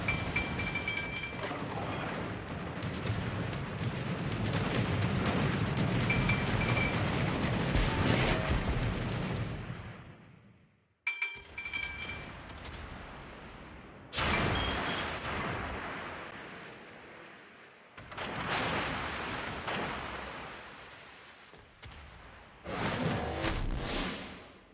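Naval gunfire from a destroyer in the World of Warships game, the Harugumo, in a ranked battle: heavy booming artillery salvos roll continuously for about ten seconds, then come in separate loud bursts that decay between shots, with no talk.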